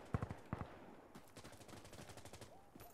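Close rapid gunfire in Insurgency: several fast bursts of automatic fire, then a sustained rattling stream of shots.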